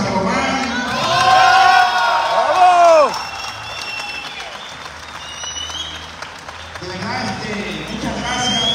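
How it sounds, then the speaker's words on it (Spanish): Audience applause and cheering at the inauguration of an altar exhibition in a local state Congress. Loud clapping comes with excited shouts and whoops in the first three seconds, then settles into softer, steady clapping with voices in the crowd. "quiero hacer un aplauso especial a mi compañero"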